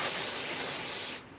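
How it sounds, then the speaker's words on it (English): A short, loud burst of aerosol spray hisses onto a concrete coaster mold, steady for about a second before cutting off abruptly. "I'm going to take the spray and I'm going to spray"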